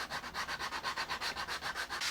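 Walnut guitar body being sanded by hand with coarse 80 grit sandpaper, a close, rhythmic rasping of quick back-and-forth strokes, about seven per second, loud and continuous.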